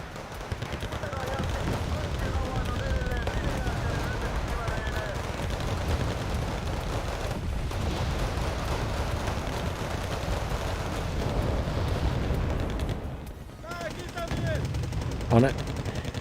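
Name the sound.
gunfire in the video game Wargame Red Dragon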